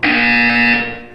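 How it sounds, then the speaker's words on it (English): One loud, harsh electronic buzzer tone from the video game Portal 2, held steady for about a second before fading out, heard alone. "You will hear a buzzer. When you hear the buzzer, look down at the floor."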